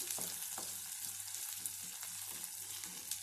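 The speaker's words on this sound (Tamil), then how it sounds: "வெங்காயம் நல்லா வதங்கி வரட்டும்" Onions sauté in a pan for okra mandi, a faint steady sizzle with light occasional stirring clicks, close and quiet, with no voices.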